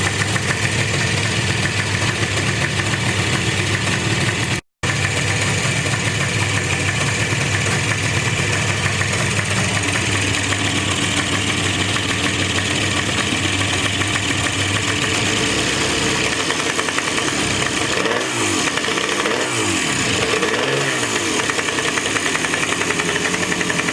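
A rebuilt Yamaha RD350 two-stroke motorcycle engine runs steadily at a loud, close idle with a constant buzzing drone and slight knocking, alone without talk, briefly cut once.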